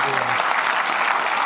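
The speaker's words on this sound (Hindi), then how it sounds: "तालियों का घनत्व और बढ़ाना" An audience at a religious discourse applauds, a thick, even burst of clapping, with a brief voice heard faintly at the start.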